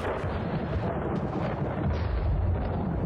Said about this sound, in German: Jetzt gewittert das auch noch draußen.